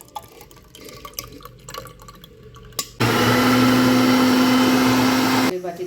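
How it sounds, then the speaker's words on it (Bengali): A kitchen blender whirs loudly and steadily for about two and a half seconds, whipping milk and eggs for pudding, starting abruptly and cutting off, after quieter kitchen handling sounds. "এখন আমি ব্লেন্ডারে ফেটে নেব একটু, তাহলে ডিমটা ভালো করে দুধের সাথে মিশে যাবে"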